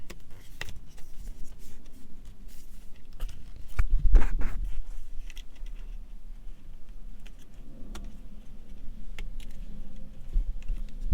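Paddle shifters on an Audi A3 with a DSG gearbox give a series of small, close plastic clicks at an irregular pace inside the car. Fainter handling noises sit between the clicks and no one speaks.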